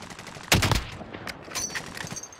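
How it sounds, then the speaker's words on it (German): Gunfire in the shooter Warzone, with one loud close burst of shots followed by quieter, scattered cracks trailing off over a busy game background. "Oh, ich hab geschossen."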